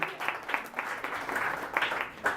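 A congregation applauds indoors in a church, a brief burst of clapping at moderate volume with no talking.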